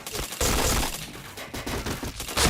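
Video game gunfire with headshots: dense, loud bursts of rapid shots and impacts crowding together with no clear gaps, set against a busy game background.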